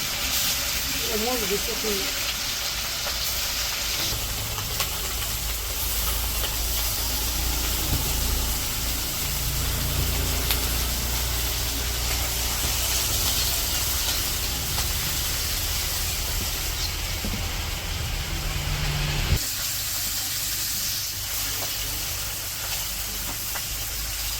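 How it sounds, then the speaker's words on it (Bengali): Fish frying in oil in a wok in a village kitchen, heard as a loud, constant hissing sizzle that carries on throughout and drops slightly in level near the end. "কড়াইয়ে তেল দিয়ে দিল তো প্রথমে মাছ ভাজিগুলো করে নেব"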